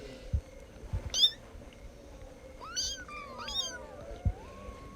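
A cat meows several times with rising, wavering cries, a few short sharp calls spread through a quiet room with faint background noise and no talk.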